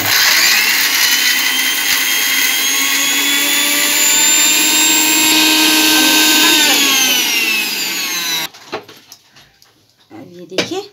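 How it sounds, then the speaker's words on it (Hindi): A loud mixer grinder whirs steadily for several seconds while grinding radish chutney, its pitch shifting slightly, then cuts off abruptly, followed by brief speech and clatter. "अभी देखिए मिक्सी ऑन करते"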